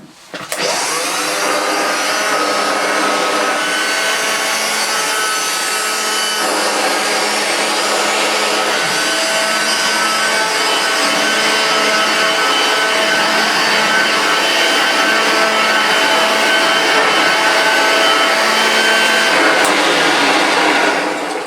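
A Hoover Dirtsearcher Junior upright vacuum cleaner with a worn belt runs loud and close, a steady whining motor drone with a slightly dry, rough tone that holds unbroken from start to finish with no talk.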